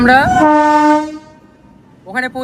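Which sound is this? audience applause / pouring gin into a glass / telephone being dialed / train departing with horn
train departing with horn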